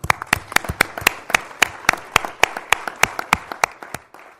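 Rhythmic, evenly spaced hand claps from a small audience at a forum gathering in Spain, about four sharp claps a second, close and distinct, with no talking over them.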